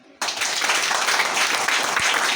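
A church congregation breaks into sudden loud applause and keeps clapping steadily.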